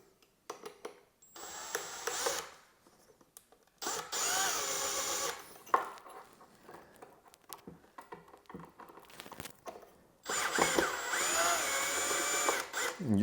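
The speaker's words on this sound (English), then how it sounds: "You just kind of want to snug them up with the drill." A power drill whirs in three short bursts, driving screws into drawer pulls, with quiet handling clicks and gaps between runs.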